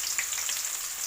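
Onions frying in deep oil for a chicken fry dish, a faint, steady sizzle with soft crackles and no voices.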